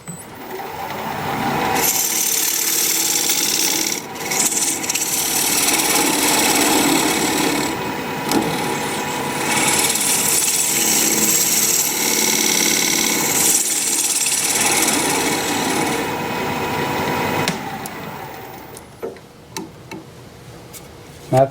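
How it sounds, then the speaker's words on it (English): A wood lathe spins a workpiece while a recess tool cuts a dovetail into its side, a steady loud scraping and whirring that runs almost continuously with brief dips before stopping near the end. "I'm going to switch to my recess tool to put a dovetail on the side here."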